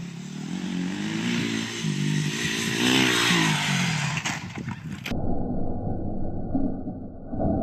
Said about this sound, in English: we watched this video yesterday of me jumping my dirt bike